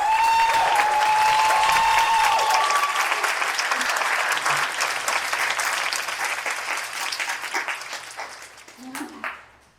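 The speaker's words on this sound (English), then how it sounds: "let's go ahead and give her an amazing hand clap of applause" A studio audience applauds an interview guest, dense clapping that starts loud, then gradually thins and fades, with a few voices and cheers mixed in near the end.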